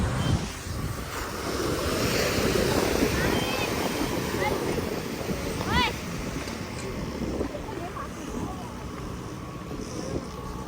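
Ocean waves wash onto a beach in Pondicherry, a broad rushing surf mixed with gusty wind buffeting the microphone, and a brief voice cuts in midway.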